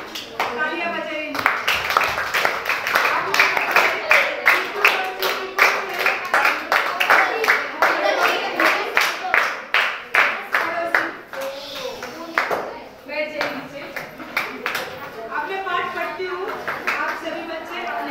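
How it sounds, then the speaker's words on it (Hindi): Children in a classroom clap together in a dense run of quick hand claps that lasts throughout, with young voices chattering over and around the clapping. "तालियां बजाइए"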